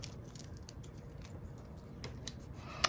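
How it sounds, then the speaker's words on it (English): Quiet, repeated crisp snips and light rustling, like small scissors trimming paper, in an irregular rhythm close by. "just grab a little scissors and just trim off these little pieces"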